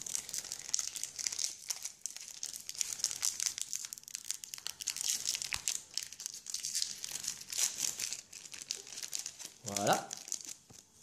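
Crinkly plastic wrapping of a Pokémon card booster pack crackles and crumples continuously as someone struggles to tear it open, with sharper tearing bursts near the end; close, fairly quiet, with faint voices at times.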